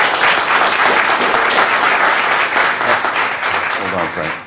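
Audience at a Stanislaus County Board of Supervisors meeting breaks into loud, sustained applause filling the room, with some voices mixed in before it tapers off near the end.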